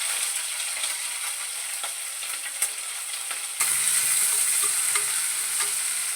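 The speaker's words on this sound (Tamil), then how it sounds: "வெங்காயம் நல்லா பொன்னிறம் வரைக்கும் நல்லா வதக்கிக்கிடுவோம்" Sliced onions and green chilies sizzle steadily in a hot pan for home-style biryani, a bright hiss with soft stirring scrapes, the sizzle growing louder partway through.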